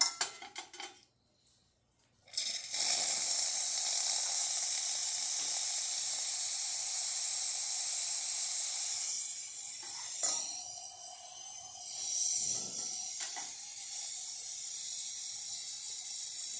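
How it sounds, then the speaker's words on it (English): Steam wand of an Olympia Cremina espresso machine hisses loudly and steadily for about fourteen seconds after a brief start, with a couple of short dips in pressure midway. No one speaks. "Let's test the steamer."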